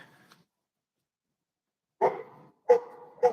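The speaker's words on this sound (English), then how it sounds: "Oh, puppy." Puppy barking on a city street in Toronto: one faint short yelp, a pause, then three sharp, close barks in quick succession, with no talk.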